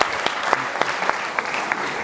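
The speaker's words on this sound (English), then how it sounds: "A round of applause." An audience at a lecture welcomes a speaker with a round of applause, close and lively, the claps sounding as distinct sharp spikes in an uneven rhythm over about two seconds.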